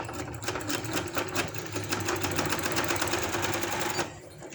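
A sewing machine runs continuously, stitching the side seam of a palazzo pant, a fast even rattling chatter up close that stops abruptly near the end.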